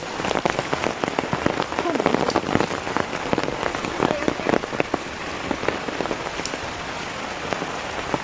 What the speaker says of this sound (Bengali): দেখো এরকম বৃষ্টি যদি সত্যি হয় না তাহলে আর বেশি দিন লাগবে না বন্যা হতে